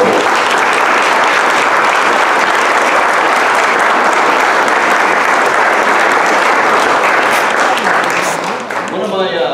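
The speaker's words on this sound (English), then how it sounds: "Have a round of applause." Dense, loud applause from a community college alumni dinner crowd fills the room steadily for about nine seconds, then tapers as a voice begins speaking at the end.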